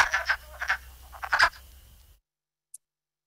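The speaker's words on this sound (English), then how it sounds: "It wasn't ducks, it was wood frogs." Wood frogs calling in spring woodland, a chorus of rapid, clucking, duck-like croaks in quick bursts over about two seconds, then sudden silence with one faint distant click.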